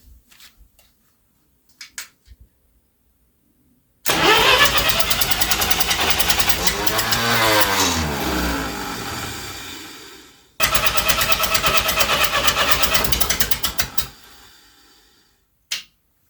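An old tractor engine cranks over in two long bursts, a rhythmic chugging churn with building compression, separated by a pause, with faint knocks around it.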